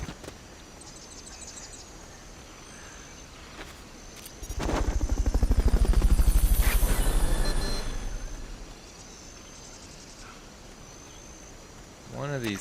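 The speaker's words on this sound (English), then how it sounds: "Fulton recovery helicopter is complete." A Fulton recovery helicopter in the Metal Gear Solid video game, rotor noise swelling in loudly for a few seconds, then fading away over quiet ambient game sounds.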